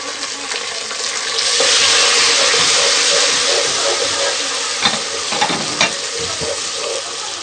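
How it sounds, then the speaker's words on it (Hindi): Tomatoes frying with onions and garlic in ghee in a pan while being stirred, a loud steady sizzle with scraping and clinks of the spoon. "अब हम इसमें टमाटर शामिल करेंगे।"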